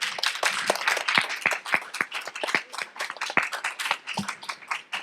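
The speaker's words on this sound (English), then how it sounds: "one more round of applause for this group" An audience at a student film premiere gives a round of applause for the student filmmakers: scattered, distinct claps from a modest crowd, close and uneven in rhythm, continuing for several seconds with no talking.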